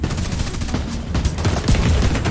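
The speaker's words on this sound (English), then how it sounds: "Stop shooting me from the side" Loud, sustained video game gunfire crackles in a continuous rapid burst of close shots, with a few heavier reports standing out near the end.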